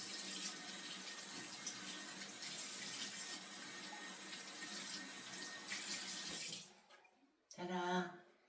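Running tap water pours steadily over a prototype for several seconds, a close, even hiss of flowing water that cuts off abruptly, followed by a short burst of handling noise.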